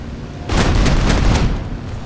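Aircraft cannon fire from a premium strike plane in the War Thunder video game, a loud burst of rapid booming shots lasting about a second, then trailing off.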